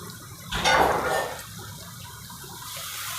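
Cornflour slurry poured into a pan while making restaurant-style chilli paneer, a brief liquid gush rising and fading over about a second, close and alone against quiet kitchen background.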